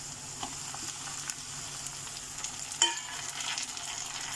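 Chopped onion, green chilies and tomato sizzling in a pan, a steady soft frying crackle with occasional spoon scrapes and one sharper clink, close and fairly quiet.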